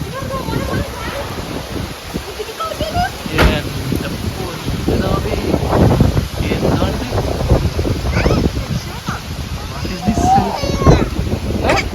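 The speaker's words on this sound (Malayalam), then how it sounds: "കണ്ണിന് കാറ്റ്" Strong wind gusts buffet the microphone outdoors just before a rainstorm, with a steady low roar and rumbling surges throughout; people talk intermittently over it.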